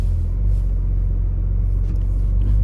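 Porsche 911 Targa 4 GTS engine droning steadily from inside the cabin while cruising in comfort mode, a constant low rumble with even road noise and no revving.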